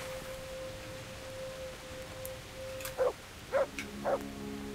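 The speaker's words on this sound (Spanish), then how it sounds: "¡Perro!" Dog in the medieval village of Kingdom Come Deliverance, three short barks about half a second apart rising over a steady game ambience.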